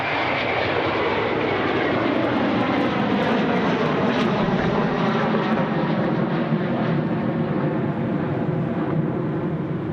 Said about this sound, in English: It's a 717-200 now rolling runway 34 right.